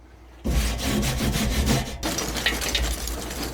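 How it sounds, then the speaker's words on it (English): Lump charcoal is dumped into a grill, starting abruptly as a loud, rough clattering and scraping of pieces tumbling in two pours, with smaller rattles at the end. "we're gonna get some lump charcoal, throw it on here"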